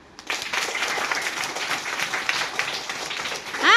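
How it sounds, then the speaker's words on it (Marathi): Schoolchildren clapping in a classroom after a riddle answer, a burst of dense applause starting abruptly and continuing steadily, with a voice rising at the very end. "टाळ्या वाजवा."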